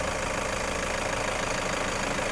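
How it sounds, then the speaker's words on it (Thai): A 2016 Toyota 3.0 D4D diesel engine idles just after starting, a steady, close, fairly loud rumble with a fine knocking texture and no voices over it. "ตอนนี้เราสตาร์ทเครื่องยนต์อยู่ค่ะ ฟังเสียงเครื่องยนต์ได้เลยนะคะ"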